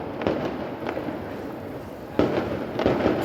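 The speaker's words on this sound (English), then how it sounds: "there's fireworks going off somewhere." Fireworks going off at night in Benidorm, several sharp cracks and bangs at medium distance over a steady outdoor background hum, without talk.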